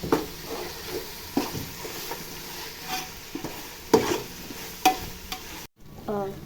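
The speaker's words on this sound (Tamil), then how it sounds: "புதினா சேர்த்து நம்ம இப்போ நல்லா கலந்து விட்டுக்கலாம்." A handful of mint is stirred into sautéed ginger garlic paste in oil for chicken biryani: a continuous sizzle under repeated sharp spoon scrapes and taps, briefly cutting out near the end.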